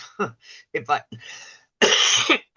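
A loud, harsh asthma cough bursts near the end, following several short bursts of talking or throat noises close to the listener.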